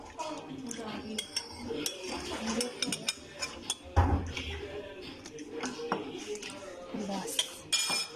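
Metal utensils scrape and clink against a pan while malai paneer qeema is mixed, a busy close run of taps and stirring knocks with a sharper clank midway.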